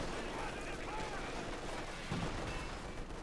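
MG42 machine gun fire in a Company of Heroes 2 match, distant rattling bursts and booms under a continuous dense wash of battle noise, fairly faint.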